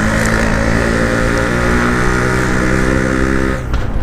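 Yamaha RX King two-stroke motorcycle with unported engine and stock carburetor, riding at steady speed: a loud, continuous buzzing engine drone holding a constant pitch, easing slightly near the end.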